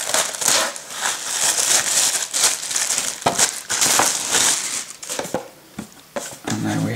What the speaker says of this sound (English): So let's get this out of its packaging.